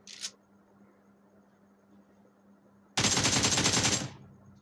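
AKM rifle fire in PUBG Mobile: a brief burst at the start, a quiet pause, then a loud rapid sustained volley of about a second.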